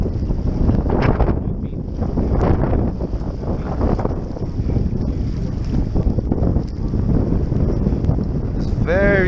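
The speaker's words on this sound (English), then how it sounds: "It's very windy day." Strong wind buffets the microphone on a windy day of trout fishing at Big Bear, a continuous loud rumbling roar that gusts throughout, with a voice talking faintly beneath it.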